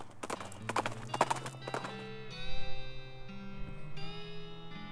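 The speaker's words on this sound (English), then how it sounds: "The hell calf canters over excitedly" Hooves of a small hell calf cantering in the West of Loathing game, a quick run of clip-clop hoofbeats up close, then sustained musical tones as the steps fade.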